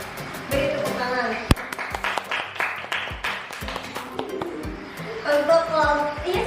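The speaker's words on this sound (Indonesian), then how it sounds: "Beri tepuk tangan" Classroom applause from students in an Islamic jurisprudence lesson, a dense burst of clapping with sharp individual claps, mixed with voices talking throughout.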